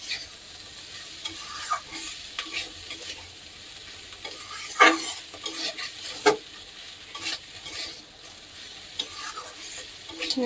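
Small fish curry with vegetable stalks frying in a pan while being stirred, giving soft scraping clinks and an intermittent low sizzle with a few sharper knocks.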